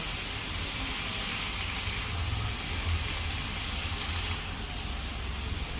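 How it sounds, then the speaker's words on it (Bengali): Chicken spring roll filling sizzles in a pan over high heat, a steady, loud hiss and crackle that runs without a break, easing slightly toward the end. "একটু হাই হিটে রেখে ভাজা ভাজা করে নেব।"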